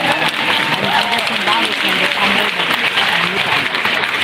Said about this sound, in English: And now, please, you can clap for that.